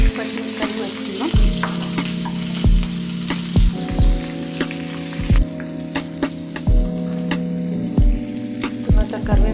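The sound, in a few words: slit green chillies sizzling in hot oil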